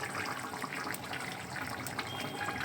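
Milk is poured into cooking vegetables for Bengali shukto, giving a continuous soft liquid pouring and gushing hiss throughout, fairly quiet, with no talking.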